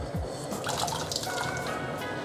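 Peeled, cubed potatoes drop into a pot holding a liter of water, giving a short run of close splashes and watery plops that settle into light sloshing.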